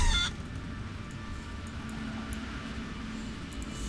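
A hen clucks in World of Warcraft, a short burst of fowl sounds at the start, then low game ambience hums steadily underneath without speech.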